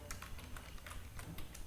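Someone typing Python code on a computer keyboard, a quick, fairly steady run of light key clicks close by over a low background hum.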